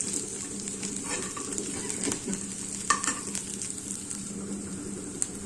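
Curry leaves fry in hot oil for dahi vada, giving a steady close sizzle with occasional crackles and the scrape of stirring.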